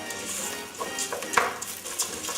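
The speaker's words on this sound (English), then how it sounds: "I throw in the sun-dried tomatoes" Sun-dried tomatoes drop into a hot risotto pan, giving a steady sizzle with light stirring and a few small clinks of utensil on pan, close and moderately quiet.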